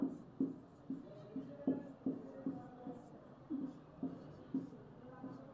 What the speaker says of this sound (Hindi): यहाँ पे लिख लेती हूँ